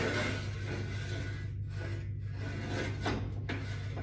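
A heavy rack slides out from a pickup truck bumper with a rough scraping rub, continuous with a few grinding surges, close by and without talk.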